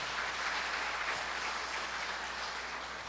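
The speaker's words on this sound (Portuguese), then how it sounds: "Você pode dar uma salva de palmas aí para esse Jesus maravilhoso?" Church congregation clapping together in sustained, dense applause, a steady wash of many hands filling the hall at close range with no voices over it.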